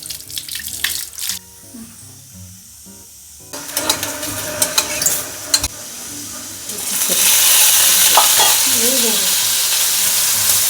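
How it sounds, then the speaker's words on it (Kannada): Whole tomatoes frying in a little oil in a pan, a loud close sizzle that flares after a few seconds and settles into a steady hiss, with utensil clinks and brief voices at first. "ಹಿಂಗೆ ಇದ್ಯಾಕೆ ಹಿಂಗೆ ಟೊಮೆಟೊ ಫ್ರೈ ಮಾಡತ್ತಿ ಮಮ್ಮಿ?"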